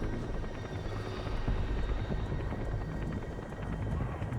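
A helicopter in the video game Metal Gear Solid V (The Phantom Pain), a loud, continuous rotor thrum and engine roar, steady and close throughout.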